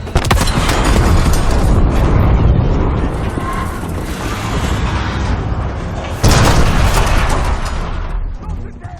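A loud explosion in Call of Duty: Black Ops 6 makes a heavy, rumbling boom that rolls on for several seconds, then a second blast hits sharply near the end, with shouting voices over it.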